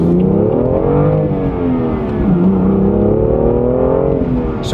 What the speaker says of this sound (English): sorry, a little acceleration there.